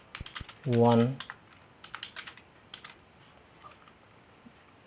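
Typing on a computer keyboard, a scatter of light, close key clicks spread through the whole stretch, with someone speaking briefly near the start.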